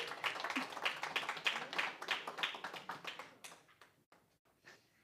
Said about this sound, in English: So please give a round of applause to Marlene Gutierrez.